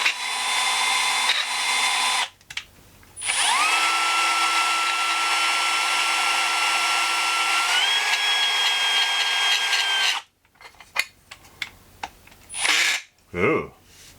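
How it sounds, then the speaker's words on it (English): A Brownell's lapping tool mandrel spins inside an AR upper receiver during barrel interface lapping, giving a loud, steady power-tool whine with a metallic chatter that steps up in pitch before cutting off abruptly, followed by brief clatters. "Little chatter of the mandrel against the inside of the upper."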